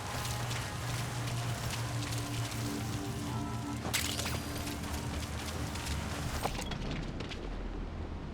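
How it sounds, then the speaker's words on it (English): Steady, dense rainfall in the video game Metal Gear Solid V, a continuous hiss of rain on surfaces with a few sharp cracks and a sudden shift in texture near the end. "Sound of rainfall should help to mask your footsteps."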